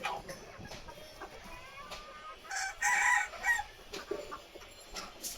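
A rooster with its leg spurs trimmed crows on a farm, a clear mid-distance cock-a-doodle-doo rising around the middle of the stretch among scattered clucks and chicken calls.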